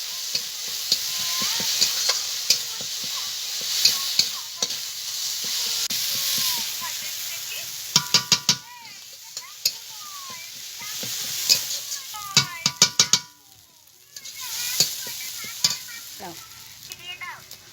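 A ground paste of green and dried chillies and spices fries with a steady sizzle in a pan while a spatula scrapes and clatters in bursts, up close.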